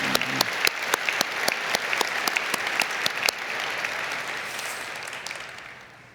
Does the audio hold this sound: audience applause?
yes